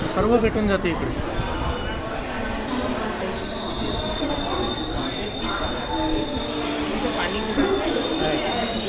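A passenger train at a crowded Badnera Junction station rolls past with loud, continuous wheel squeal and rumbling carriages, high metallic screeches rising and falling over the clatter.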